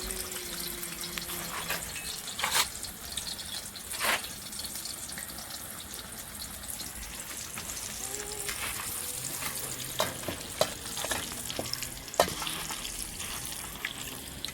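Chicken sizzles and fries in a frying pan during outdoor Jamaican-style cooking, a steady crackling hiss with occasional louder pops and stirring knocks, no talk.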